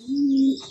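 A pigeon in a loft gives a single loud, close coo, one sustained low hum lasting about half a second with no other sounds around it.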